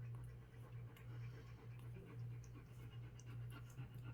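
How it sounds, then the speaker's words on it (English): Puppies panting faintly in the background, a quiet rapid breathing rhythm over a low electrical hum. "You can hear my puppies in the background."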